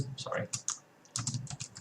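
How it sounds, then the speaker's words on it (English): Fingers tap out quick bursts of keystrokes on a stone computer keyboard, close and crisp, with a short quiet pause between two flurries of typing. "this is the stone keyboard"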